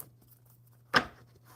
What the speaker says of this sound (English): shuffle them up and see what we have